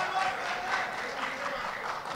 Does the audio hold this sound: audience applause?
yes